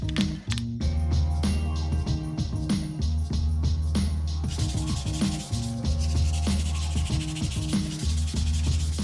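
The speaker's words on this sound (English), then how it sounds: "Next I lightly sand all the pieces using 180 grit sandpaper." Plywood pieces for a platform bed being lightly hand-sanded with 180 grit sandpaper, a close run of quick rhythmic back-and-forth rubbing strokes that blur into a steadier scratchy hiss partway through.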